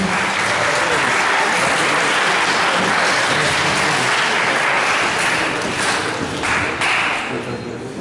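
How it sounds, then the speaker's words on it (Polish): Dense, steady applause from a large crowd, loud and continuous, fading slightly toward the end. "Wielkie brawa dla was."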